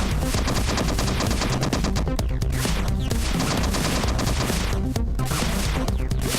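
Rapid, loud gunfire in the Cthulhu game Deep Ones, bursts of repeated shots filling the whole stretch with dense, crackling impacts and no talk.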